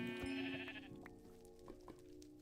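A video-game sheep lets out a loud wavering bleat at the start, then shorter bleats follow amid soft game clicks and ambient noise, with no voices present.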